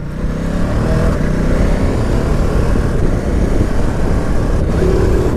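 A 2019 Ducati Multistrada 950 S motorcycle accelerating on a test ride, a loud, continuous engine roar mixed with rushing wind, heard close and steady for the whole stretch.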